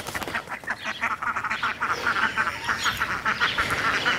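Runner ducks quack repeatedly in quick, overlapping bursts, close and fairly loud, with no talking.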